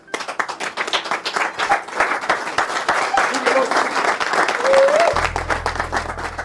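An audience applauds at a family introduction on stage, with dense, sustained clapping that swells and holds throughout, and a faint hum near the end.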